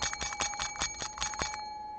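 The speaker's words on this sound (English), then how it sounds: "Sounds like an ice cream bell." A small hand bell like an ice cream bell rings in quick, rapid strikes for about a second and a half, close and bright, then its tone rings out and fades alone.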